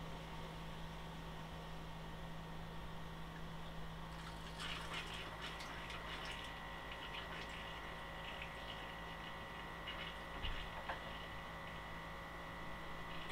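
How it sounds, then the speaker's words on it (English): A tent trailer's water pump runs with a steady low electric hum and whir throughout, quiet and constant, with a few faint clicks and rattles partway through. "we want to turn on the pump"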